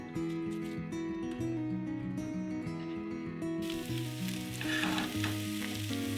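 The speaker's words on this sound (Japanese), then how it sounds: "フライパンにオリーブオイル小さじ1、キャベツとぶなしめじを入れて中火で焼きます。" Cabbage and bunashimeji mushrooms sizzle in a teaspoon of olive oil in a frying pan over medium heat, a steady crackling fry heard under background music.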